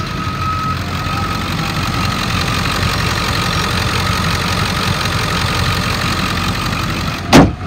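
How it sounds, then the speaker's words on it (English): A 2001 Ford F-350 Super Duty crew cab pickup engine idling steadily, close and even, with a brief louder knock or bump near the end and no voices. "Idle's real smooth."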